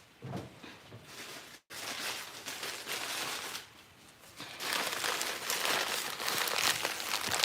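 Dried hibiscus flowers crumpled inside a brown paper bag, with close, crackly crinkling and crunching in uneven bursts, a short pause, then louder sustained rustling toward the end.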